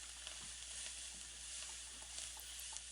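Almonds, about thirteen or fourteen, fry in a hot pan with a steady, close sizzle and faint crackles throughout, with no voices.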